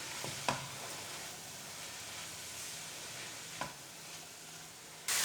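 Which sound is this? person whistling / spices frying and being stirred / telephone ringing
spices frying and being stirred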